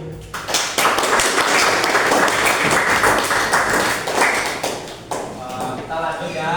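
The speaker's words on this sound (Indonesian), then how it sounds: "Oke, tepuk tangan dulu." A school class applauding on the teacher's cue, a loud, dense burst of many hands clapping together close by that holds for several seconds before tapering off.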